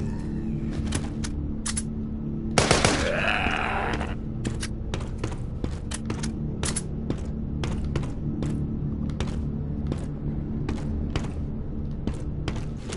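A Gatling gun firing in the mobile video game The Walking Zombie 2 during a fight with bandits: short, sharp rattling bursts repeat at a quick, uneven pace over a low, rumbling game backdrop, with one longer, louder burst near the start.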